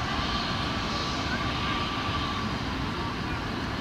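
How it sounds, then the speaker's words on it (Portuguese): An ATR airplane takes off at Lisbon airport, its engines giving a steady, broad roar at moderate distance with no breaks across the whole span. "Lá o ATR está a descolar já."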